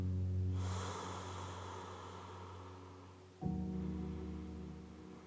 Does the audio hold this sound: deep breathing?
yes